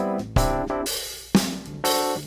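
Drum hits land on a steady half-time shuffle groove beneath sustained keyboard chords, the harmonic layers swelling with each new chord change. Bright, full, and fairly loud, with no voices.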